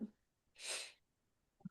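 A single quiet, breathy sneeze with a soft hiss, standing alone in an otherwise hushed room. Faint murmurs come just before and just after it.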